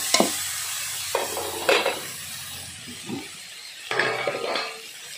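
Small fish being mixed with turmeric powder and salt in a pan: several separate bursts of scraping and light sizzle as the spoon sweeps through, with short quiet gaps in between.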